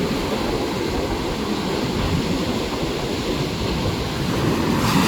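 A steady, roaring wash of surf, the broad rumble of waves breaking continuously with no pauses or voices.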